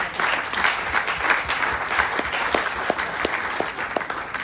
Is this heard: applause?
yes